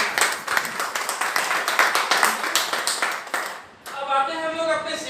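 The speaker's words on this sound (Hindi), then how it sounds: "एक जोरदार ताली बजाने के लिए" An audience at a presentation claps loudly in a dense, steady burst of applause lasting several seconds, then it breaks off and a voice starts speaking.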